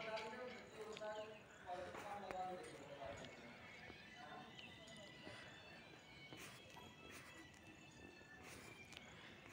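Faint hoofbeats of galloping horses, used as a sound effect in a Hindi audio story, patter quickly under a dense, busy background wash that fills the whole stretch.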